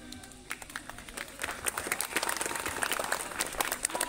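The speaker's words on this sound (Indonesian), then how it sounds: "tepuk tangan buat Kakak Sardi" An audience at a children's Bible storytelling competition applauds after a story, a faint, distant crowd clapping that swells from scattered claps into a steadier, fuller patter.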